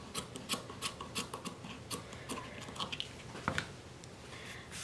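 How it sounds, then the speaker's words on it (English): Scissors trimming leftover fabric from a handmade baby bow with a small rubber band at its center, heard as a series of soft, close snips and rustles in a quick irregular rhythm, quiet and without talk. "I'm just going to cut off this remaining fabric"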